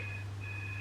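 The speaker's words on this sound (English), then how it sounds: "That's the phone. You've made the phone go now." A household telephone ringing indoors, a brief faint electronic tone that breaks off and resumes within under a second.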